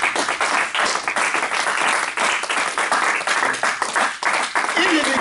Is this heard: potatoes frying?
no